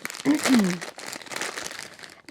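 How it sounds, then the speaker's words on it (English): A crinkly snack packet is handled and rustled near the microphone in a steady crackling stretch, with a brief voice sound near the start. "But excuse the rustling."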